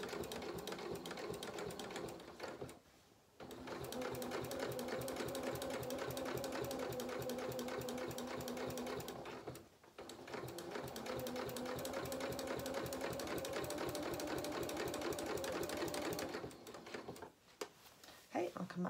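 A sewing machine stitches the seam of a dress lining in three long, steady runs of rapid mechanical chatter, close and prominent, with brief stops between runs.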